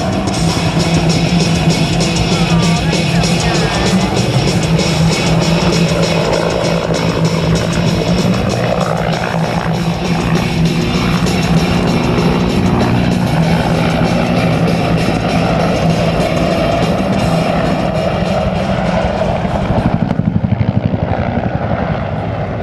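A Cobra attack helicopter roars loudly and steadily close by at an air show, its rotor and engine drone filling the air throughout, easing slightly at the end.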